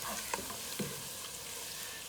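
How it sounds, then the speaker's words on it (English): Tomato paste and vegetables sizzling steadily in a hot pot for lobster bisque, with a couple of soft spoon scrapes as the mixture is stirred, no voices. "We're going to mix this all around and let that tomato paste melt with the heat"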